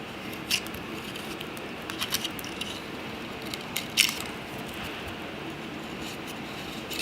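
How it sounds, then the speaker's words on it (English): A knife shaves and carves still-wet hydrocal plaster, making a soft, continuous scraping texture broken by small clicks and scratches, close by and without speech. "it's still wet enough that I can work on it, like shave it with a knife"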